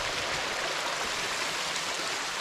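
Water rushes steadily in a broad, even hiss from a small waterfall close by running low on water, with no pauses or other sounds.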